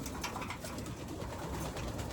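Racing pigeons in a loft coo steadily over a dense, constant background hiss, with soft overlapping bird calls throughout.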